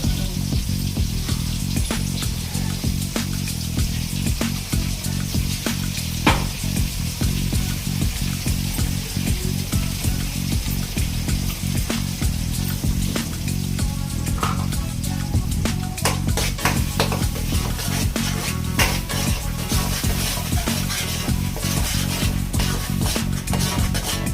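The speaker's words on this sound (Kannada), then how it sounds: "ಶುಂಠಿ, ಬೆಳ್ಳುಳ್ಳಿ, ಈರುಳ್ಳಿ 3 ಪೇಸ್ಟ್. ಓಕೆ, ಅದನ್ನ ಸ್ವಲ್ಪ ಫ್ರೈ ಮಾಡ್ಬೇಕಾ?" Ginger, garlic and onion paste fries in a pan at a home kitchen, a steady close hiss and crackle running throughout with occasional small clicks, no talk.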